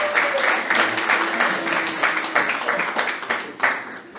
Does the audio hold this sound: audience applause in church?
yes